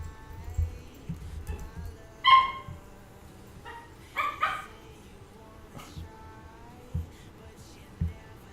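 Dogs playing, with a few scattered yips and short barks at irregular intervals, moderately close, one louder bark burst among quieter whimpers and thuds.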